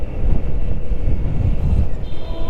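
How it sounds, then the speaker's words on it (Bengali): Strong wind buffets the microphone while riding a motorbike along a smooth road, making a steady, loud, low rumbling roar that continues without a break. "বাতাস আছে, অনেক বাতাস, প্রচুর বাতাস।"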